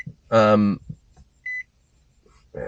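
A single short electronic beep, steady and mid-pitched, sounds between bursts of speech.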